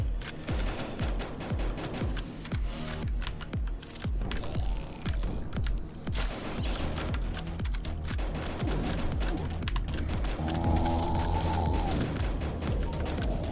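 Combat in the video game BITGUN, with dense rapid gunfire and several heavy booming blasts from grenade explosions, loud and continuous with a deep rumble mid-stretch.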